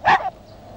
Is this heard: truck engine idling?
no